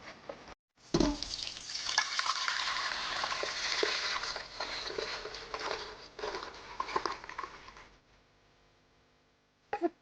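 Raw milk and yogurt starter stirred together in an Instant Pot liner, a steady scraping, sloshing churn lasting several seconds with small knocks, then fading to quiet near the end before a last brief clatter.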